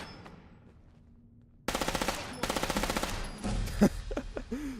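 Heavy automatic gunfire from the Fallout 4 video game, loud rapid bursts of machine-gun fire in two long volleys, followed by scattered shots and other game sounds.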